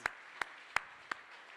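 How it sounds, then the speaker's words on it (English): Four sharp, evenly spaced hand claps ring out at a charity gala, quiet and a little distant, with no voices around them. "Give yourselves a round of applause for the magic we are about to create over the next few minutes"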